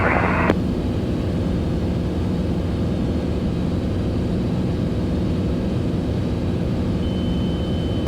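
A Bonanza airplane's engine drones steadily in flight near the airport circuit, a loud constant cabin roar with a brief higher tone at the start.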